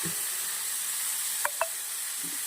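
Tomatoes with salt and turmeric frying in a pan, giving a steady even hiss with two brief clicks from a spoon partway through, with no voices.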